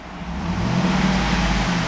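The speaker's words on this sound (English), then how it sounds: "I'm going to rev the engine on the left hand side of your screen." A 2010 Cadillac Escalade ESV with its 6.2-liter V8 rises in a short rev from idle, a steady close engine drone swelling slightly, with no talking.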